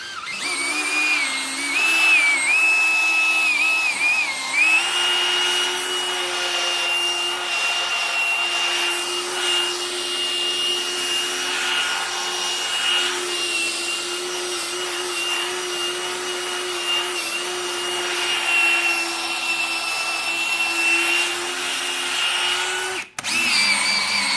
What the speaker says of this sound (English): I'm using a buffer on the end of a drill